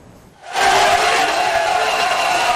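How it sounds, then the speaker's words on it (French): Impatient crowd gathered at Moïka aerodrome in Kasaï to welcome a politician, a sudden loud roar of shouting and cheering that swells in and holds steady. "Une foule impatiente et impassible pour accueillir Constantin Mbengele Kouete Tamouk"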